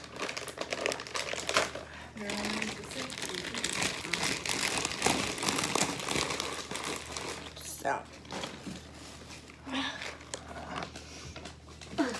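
Paper towels crumple and crinkle in repeated bursts while a pet cage is cleaned by hand, with a person talking over much of the handling.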